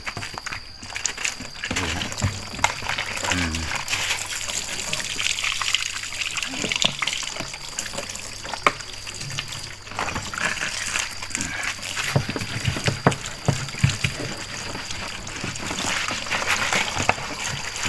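Water spraying and splashing while cleaning solution is rinsed off a greasy, dirty surface, a steady hiss with intermittent splatters and faint footsteps, and someone speaks briefly over it.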